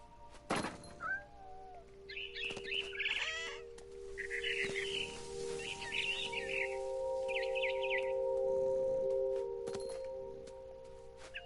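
A frightened bird chirps in a video game, sharp repeated chirp bursts over a steady electronic hum with scattered thumps, fairly faint and with no talking.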